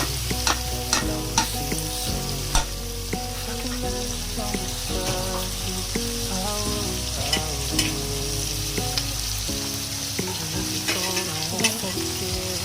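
Soaked Gobindobhog rice and lightly fried paneer stirred and frying in a hot pan, with a steady sizzle and frequent scraping stir strokes close up, continuous throughout with no talk.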